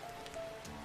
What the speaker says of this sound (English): as the rain plays its soft melody outside